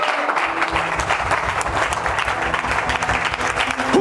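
Church congregation at a French-language worship service applauding and acclaiming Jesus, steady loud clapping from a large crowd with a faint voice and sustained tone underneath throughout.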